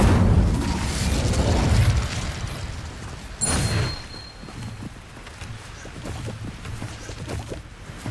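In Hogwarts Legacy, an Incendio fire spell fires with a loud whooshing burst that swells then settles into crackling, rumbling flames, followed by a sharper impact and smaller pops and clatter in the game's background noise.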